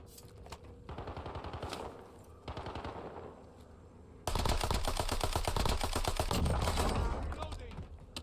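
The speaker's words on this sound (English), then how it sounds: "I don't know who he was shooting at." Rapid automatic gunfire in the Warzone video game, with long bursts of fast shots and brief pauses, then a louder, denser stretch of sustained firing.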